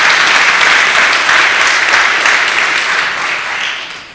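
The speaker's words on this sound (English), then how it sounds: "you can applaud for Jennifer, amen." A church congregation breaks into applause for a minister, a broad, loud wash of clapping from many hands that holds steady and then gradually fades toward the end.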